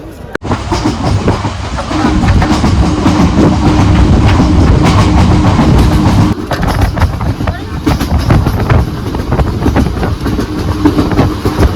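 Loud continuous rumble and rattling clickety-clack of a local train riding from Sheoraphuli junction toward Tarakeswar, heard from inside the carriage with wind buffeting and a brief drop partway through.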